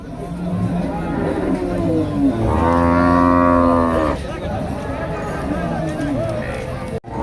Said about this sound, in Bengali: এখানেও দেখেন কি সুন্দর বাচ্চা সহ সাদা একটা গরু রয়েছে